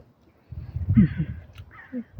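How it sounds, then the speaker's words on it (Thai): A crow caws a couple of times outdoors on a snowy morning, its harsh calls moderately loud against a faint low background rumble. "ได้ยินเสียงนกด้วยนะคะ"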